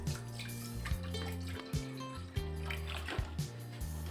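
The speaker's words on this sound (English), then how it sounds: "On a bowl, we pour about 1 liter of water." About a liter of water poured into a bowl in a kitchen, quiet splashing and trickling with a few distinct drips and sloshes over a few seconds.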